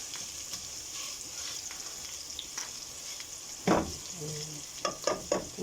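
Ground meat and onions are sautéed in a pan with a soft, constant sizzle, broken later by several louder scraping stirs of a spatula.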